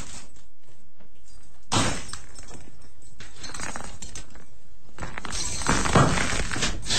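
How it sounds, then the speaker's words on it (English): Broken glass bulbs and small glass shards tumble out of a suit covered in bulbs, a dense crunching, clinking rattle that comes in loud bursts, fairly close. "bulbs are still coming out, that most of them are broken, obviously, as you can hear, with little pieces of glass coming out"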